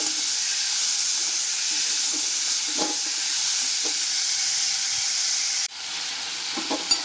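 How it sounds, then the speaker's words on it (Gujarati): Onions and tomatoes sauté in a pan with a steady loud sizzle and hiss, a few soft clinks from stirring, and a brief knock as the sizzle drops slightly near the end. "અને આપણે થોડીક વાર સાતળવા દઈશું."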